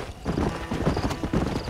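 Horse hooves clip-clop in a steady, close rhythm in the Red Dead Redemption video game, with a brief neigh-like tone and no talking over it.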